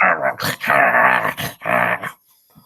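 A voice makes muffled, growly chewing noises in a few throaty bursts, imitating something gnawing, then falls quiet.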